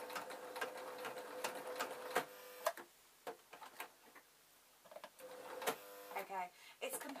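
A domestic sewing machine stitching over an older seam while a broom is converted into a mop, running in quick bursts of rapid rhythmic ticking with short pauses between.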